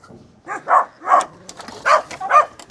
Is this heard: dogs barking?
yes